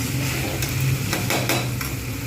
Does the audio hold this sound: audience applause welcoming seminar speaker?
no